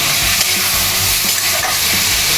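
Finely chopped onion fries in oil and butter in a pan, giving a loud, steady sizzle with stirring scrapes and clatter throughout.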